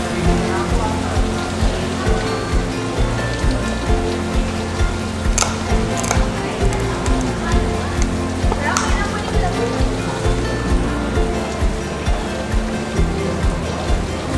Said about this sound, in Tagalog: Ayan, umuulan na sa labas.